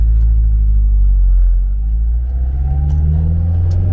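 A camper van with a recently repaired fault pulls away, its engine a steady low rumble close by that shifts as it gets moving, with no talk over it.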